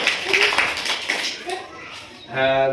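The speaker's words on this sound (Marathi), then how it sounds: "ती संख्या तुम्ही टाळी आणि चुटकी वाजून करून दाखवायच्या" Schoolchildren playing a number game clap and snap fingers in a burst of sharp, close hits, with a voice heard between and a tonal sound near the end.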